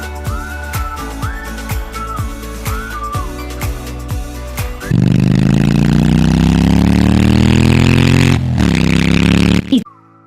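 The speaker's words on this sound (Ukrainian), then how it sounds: "Мотоцикл." Motorcycle engine revving up, its pitch rising in a loud throaty drone, after a run of bouncy music.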